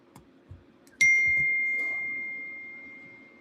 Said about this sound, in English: so you don't have to hear all those dings